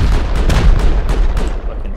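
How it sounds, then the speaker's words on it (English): Rocket launcher fire and explosions during a large clan raid in the video game Rust, heard as dense, booming gunfire-like blasts with several sharp bursts over a continuous loud low rumble. "I'm rocketing once right now."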